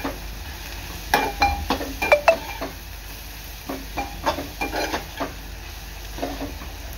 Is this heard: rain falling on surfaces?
no